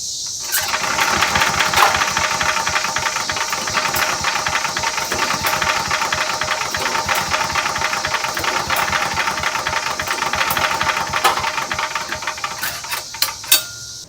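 A small engine with a newly installed spark plug cranks continuously for about fourteen seconds, a loud, steady, rattling churn close to the listener, with a few knocks near the end.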